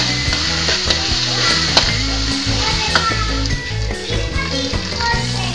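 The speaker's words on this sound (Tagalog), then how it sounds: "pag mainit na yung mantika, ilagay na natin yung ground beef natin. Lutuin muna natin ito." Ground beef fries in hot oil in a pan, a loud continuous close sizzle with stirring scrapes and occasional clinks.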